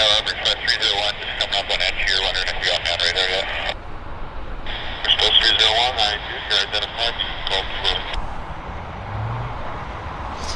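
A WestJet airliner, flight 706 bound for Toronto, taxis onto the runway at Vancouver Airport while clipped air traffic control radio transmissions crackle in two long bursts over a steady low engine rumble.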